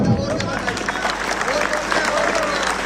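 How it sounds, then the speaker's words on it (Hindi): Crowd clapping at a large Hindu community gathering marking a centenary, with dense steady applause mixed with voices and babble throughout. "ताली बजाओ"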